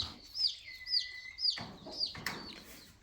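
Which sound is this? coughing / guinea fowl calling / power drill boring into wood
guinea fowl calling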